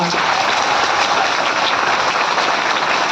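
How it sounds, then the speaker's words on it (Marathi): Audience applause for industries minister Uday Samant at a public gathering, a dense, steady wash of clapping that holds at full level for the whole short stretch. "सन्माननीय उद्योग मंत्री उदय सामंत साहेबांसाठी जोरदार टाळ्या वाजवा"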